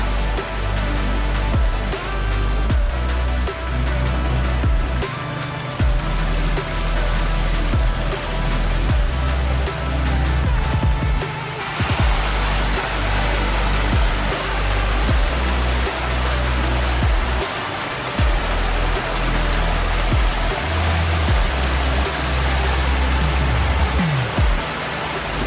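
A backyard pond waterfall runs through winter, its water pouring in a dense, continuous rushing splash that stays loud and close without a break.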